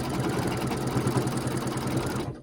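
An embroidery machine stitching a wide satin stitch on a daffodil coaster design, a fast, even mechanical whir and needle rhythm running steadily throughout before cutting off at the end.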